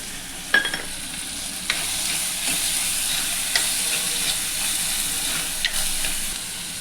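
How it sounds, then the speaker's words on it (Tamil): Curry leaves and crushed garlic fry in a pan for athalakkai kuzhambu: a steady close sizzle broken by several sharp knocks of a stirring spoon against the pan. "இது கூட ஒரு கொத்து கருவேப்பிலை போட்டுக்கிறோம் அது நல்லா வாசனையாக நல்லா வதங்கி"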